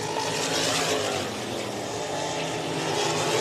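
Dirt track race cars roar past at speed during a feature race at Underwood, a dense continuous engine drone with accelerating throttle, loud and steady throughout.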